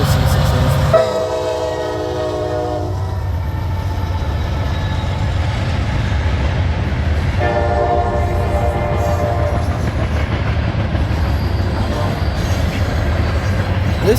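A short CSX 16R freight train powered by an SD60 and two AC44C6M locomotives sounds two loud horn blasts over a continuous rumble of engines and rolling wagons.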